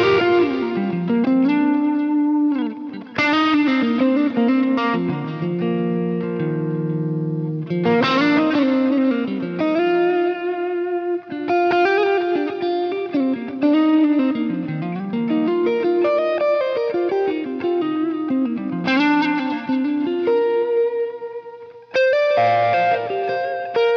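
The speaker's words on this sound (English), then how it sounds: "sort of from the imagination of Ben Adrian, attempting to cop that kind of Dumble tone, scratch that Dumble itch is what he told me" Electric guitar played through a Dumble-style amp model on a Line 6 Helix, giving a smooth, soupy overdriven tone with sustained melodic lines and chords, loud and continuous with no talking.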